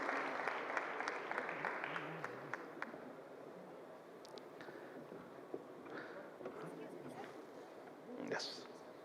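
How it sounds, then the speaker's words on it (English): Applause from an audience at an industry awards ceremony, dense clapping at first that thins out, with some chatter and a brief louder burst near the end. "A big applause to Mr. Jayesh Ranjan, Principal Secretary"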